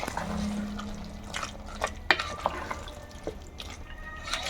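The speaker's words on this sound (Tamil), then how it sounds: "ஸோ இப்போ வந்து நான் இதில் தண்ணி ஆட் பண்ணுறேன்" Water poured into a pan of mutton chop (boti) gravy with curd, a soft liquid splash and bubbling sizzle with a few small clinks, steady and close, no talking.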